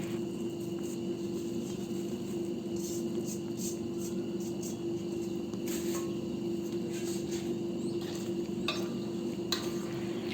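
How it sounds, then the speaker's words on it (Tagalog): Ginataang sitaw with malunggay leaves is stirred in a pot, soft scraping and clinks over a steady low hum and faint simmer, fairly quiet and continuous. "Haluin lang natin."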